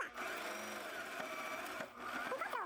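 A sewing machine stitches a seam and reverses over the start for a backstitch, a quiet mechanical whir with a brief pause, heard close.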